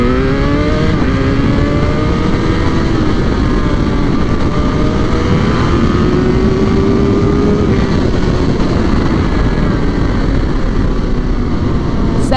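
A 1000cc motorbike accelerating hard in second gear, its loud engine note climbing steadily in pitch without reaching redline, close and continuous with wind roar, no talk.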